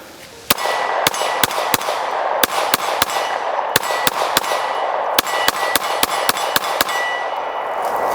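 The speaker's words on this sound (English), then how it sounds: "that was like the first mag I've gotten through any pistol without actually missing the target" A Springfield Prodigy DS pistol fires a rapid string of shots at a steel target, each sharp crack paired with a ringing metallic clang, about eighteen impacts in quick irregular bursts.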